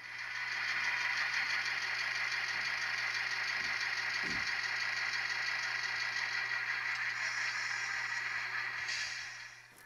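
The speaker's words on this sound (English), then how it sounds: "you'll hear the engine rev up at speed step three." An N scale Atlas GP38-2 model locomotive with ESU Loksound decoder gives a steady, faint diesel engine drone with a rhythmic mechanical chug, holding an even idle-like rumble throughout with a couple of brief soft knocks.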